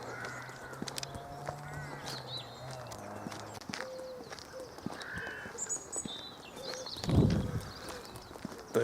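Birds call and chirp outdoors near a river, with a crow cawing and scattered songs over soft background noise, plus footsteps and a brief thump near the end.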